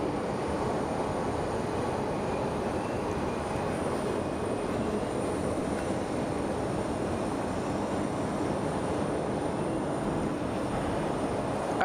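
A jet airliner takes off from Sky Harbor Airport, a steady, loud broadband engine roar that holds evenly throughout with no speech.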